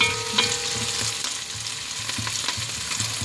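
Curry leaves fry in hot oil for a Sri Lankan mutton curry, giving a loud continuous sizzle, with a few stirring scrapes and a soft rhythmic thump underneath, and no speech.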